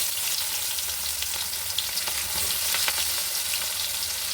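Onions frying in oil in a pan for a home-style chicken curry give a steady, close sizzle with a dense crackle that runs unbroken throughout. Occasional soft pops stand out, and no voices are heard.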